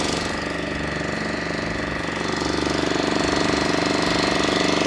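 A boat engine runs steadily out on the water, a continuous loud mechanical drone with a rapid knocking pulse that swells slightly toward the end.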